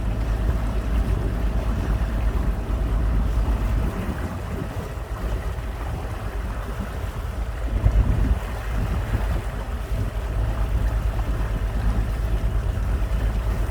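A boat cruises along a wide river through a valley, its engine droning steadily under constant wind and water rush, loud and continuous throughout.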